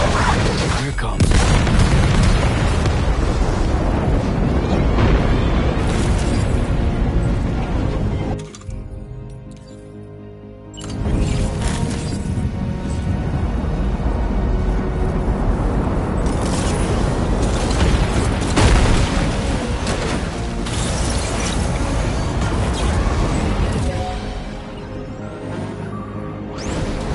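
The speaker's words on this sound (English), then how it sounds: "Watch out, Sam. Opening fire." Gunfire and explosions in the video game Death Stranding 2: On the Beach, loud and continuous, with booming blasts and clinking debris. The sound runs almost unbroken, drops briefly into a lull and then resumes, and voices come up faintly in the mix.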